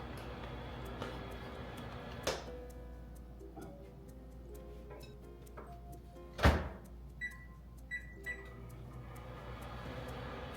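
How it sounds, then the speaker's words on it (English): A microwave oven heating cream hums steadily in a kitchen, with scattered ticks, a few clunks and a short run of electronic beeps near the end; no talking. "put this in the microwave in 15-second increments until it's hot but not boiling"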